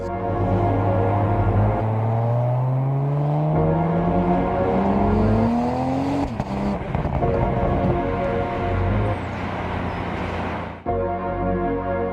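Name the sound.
2025 BMW M340 car engine revving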